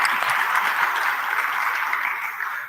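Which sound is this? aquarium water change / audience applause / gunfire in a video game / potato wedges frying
audience applause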